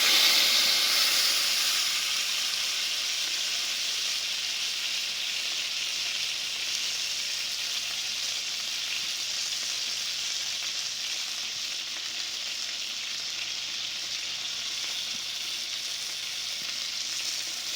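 A top cap sirloin steak sizzles loudly and continuously in a cast iron pan, with a bright, hissing fry that is strongest at first and then settles to an even level, with no talking.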